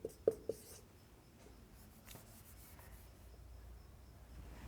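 Writing on a board during a Hindi-language chemistry lecture on aromatic ketones: a few quick tapping strokes at the start, then faint scratchy rubbing strokes, close but quiet, with no talking.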